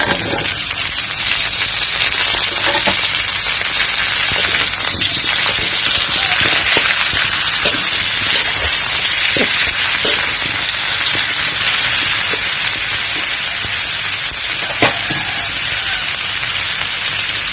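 Steady loud sizzling hiss of garlic, bitter melon, shiitake mushrooms and pickled mustard greens stir-frying in a hot pan, with scattered scraping clicks from stirring throughout.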